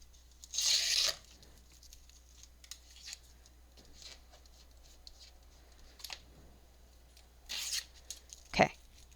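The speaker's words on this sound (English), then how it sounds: "Take off this tape." Tape peels off a cardboard candy box in two short ripping bursts, one early and one near the end, with faint rustles and a light knock between them in a quiet room.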